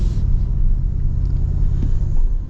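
Engine intake noise from a 2025 Toyota Tacoma Trailhunter with a raised air intake, heard from inside the cab with the windows up as a steady loud low rumble, with no talking.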